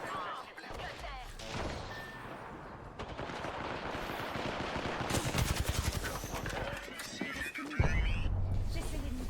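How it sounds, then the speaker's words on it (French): In the Apex Legends video game, gunfire strikes the player, with rapid bursts of machine-gun shots and impact cracks building over a dense battle din. A voice talks over the action. "Je me fais tirer dessus."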